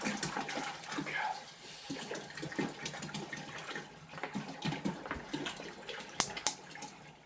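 Bottled water, Absol Pure or Ice Mountain, glugs and splashes into a homebrew brewing pot, close and irregular with bursts of pouring over about seven seconds, a few louder splashes near the end.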